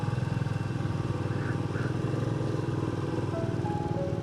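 A motorcycle cruises along a bumpy coastal road in the Konkan region toward Ganpatipule, its engine drone steady and close, with wind noise throughout and no pauses.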